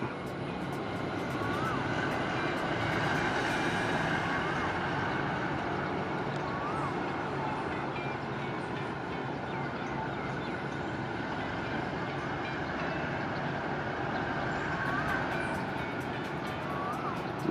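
A Thai diesel-electric locomotive moves slowly after being washed, its engine a steady, loud low rumble that drones on without a break from start to finish.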